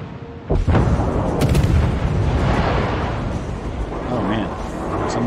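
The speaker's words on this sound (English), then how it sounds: "Somebody's firing at me," Naval gunfire aimed at the player's ship in World of Warships, a sudden heavy boom followed by a rumbling, sustained roar of shell blasts and splashes, loud and close, with a voice talking faintly underneath.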